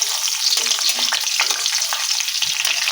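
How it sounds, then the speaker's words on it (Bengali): Torn dried red chillies and six to eight crushed garlic cloves fry in hot oil, giving a loud, continuous close-up sizzle with crackling spatters. "লঙ্কাটা রসুনটা একটু ভেজে নিচ্ছি।"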